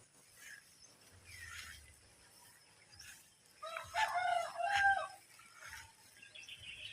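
Chickens cluck and crow at a moderate distance, with a brief burst of louder calls partway through over a quiet outdoor background.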